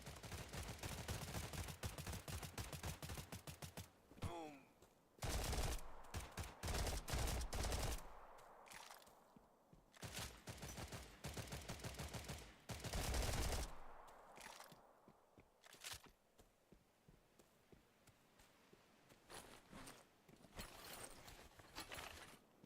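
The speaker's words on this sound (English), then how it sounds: "Zombies are shooting at something" Gunfire in a zombie video game, dense rapid bursts of shots alternating with short quieter gaps, loud and continuous in stretches, no talking.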